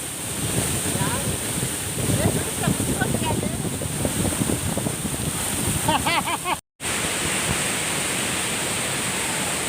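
Hogenakkal Falls in Tamil Nadu gives a constant, loud roar of rushing water with wind buffeting the microphone. Voices talk over it for much of the clip, and the sound cuts out briefly once.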